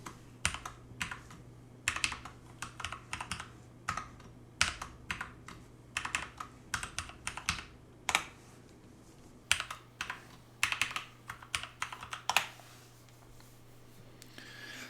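A password is typed on a computer keyboard while setting up Windows Server: close, quiet keystrokes tapped in uneven clusters with short pauses between them.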